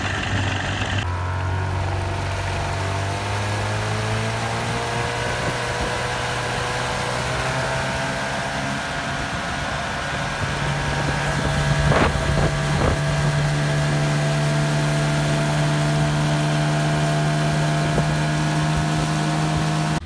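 An outboard boat engine idling at a lake dock after a spark plug repair, a steady low drone with a sustained hum, wind buffeting the microphone throughout.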